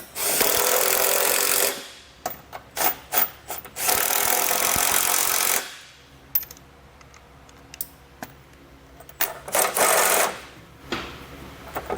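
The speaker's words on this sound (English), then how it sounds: "We can then go back and we'll tighten down our hardware." A ratchet with 18mm and 19mm sockets tightens trailer hitch bolts on a 2013 Honda Odyssey, sounding as long, rapid clicking runs separated by short taps and metallic knocks, close and loud.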